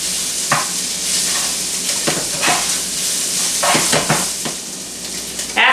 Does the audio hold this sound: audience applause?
no